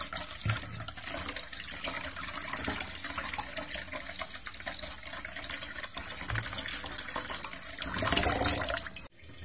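Fenugreek leaves being rinsed under running water in a basket, a steady broadband splash and trickle that swells louder near the end before cutting off abruptly.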